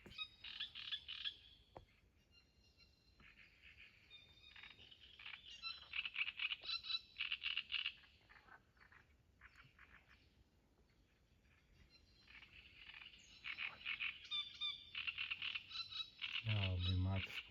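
Frogs croak at night beside the water during evening fishing from a pier, in repeated bursts of rapid croaking, fairly faint, with occasional bird chirps in a quiet background.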